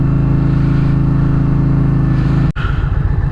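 A 2022 Indian Challenger Elite motorcycle engine pulls hard and loud under acceleration in the rain, a steady low rumble for most of the stretch, broken by a brief cut near the end before a rougher pulsing resumes.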